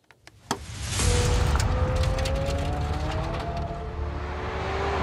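A McLaren Senna drives by with a continuous close engine note that climbs steadily in pitch as it accelerates, over a broad rushing roar of wind and tyres, with no voices.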